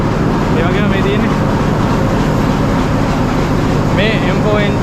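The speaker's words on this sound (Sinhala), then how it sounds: "සද්ද වැඩි එන්ජින් එකේ සද්ද තියෙනවා නියමටම" A Class M4 diesel locomotive, one of the 97-ton Canadian-built engines imported to Sri Lanka in 1975, roars loudly and steadily from the cab throughout, with brief voices surfacing faintly under the engine noise.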